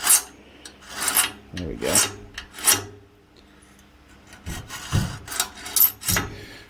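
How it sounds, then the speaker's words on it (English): A hand tool scores the inside and outside of a metal primary sheave prototype for a 450cc engine, making a series of close, irregular rasping scrapes with short pauses between strokes. "So I'm just going to score the inside."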